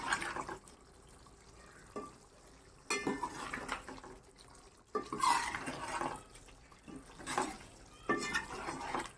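Chicken biryani gravy is stirred in a cooking pot, with quiet, intermittent wet scraping and sloshing strokes separated by near-silent gaps, and no talking.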